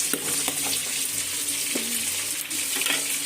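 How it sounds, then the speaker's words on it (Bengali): Fish head cooks with spices in a pan, a close, steady sizzle with a few utensil taps and scrapes scattered through, no speech. "মশলাটা আর মাছের মাথাটা একসঙ্গে কষানো হয়ে যাবে।"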